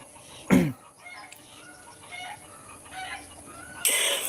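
Chickens and roosters at a village henhouse: a loud crow at the start, scattered soft clucks and calls across the middle, and another loud crow rising at the end.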